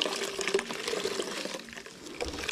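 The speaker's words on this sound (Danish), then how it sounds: "Og så har du en spand med ren vand, som du skyller din klud" A cloth is rinsed in a bucket of clean water while the panels of a Gilera Stalker moped are being washed, giving a steady close sloshing and splashing that dips briefly, then picks up again.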